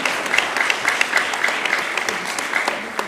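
Audience applause at a primary school mental maths competition, dense steady clapping from a crowd filling the whole clip, close and loud.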